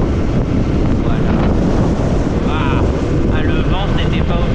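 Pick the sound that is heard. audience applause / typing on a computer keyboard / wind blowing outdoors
wind blowing outdoors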